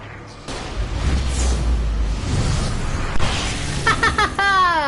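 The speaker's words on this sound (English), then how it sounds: "Sorry, I really like large explosions." A large explosion in the video game Alan Wake bursts with a deep booming rumble, followed by crackling debris and a rising whooshing tone near the end.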